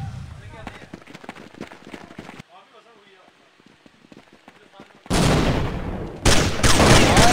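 Rapid gunfire bursts crackle in a Counter-Strike match. Sharp volleys come first, then a quieter lull, then loud dense firing returns near the end, with a commentator talking over it.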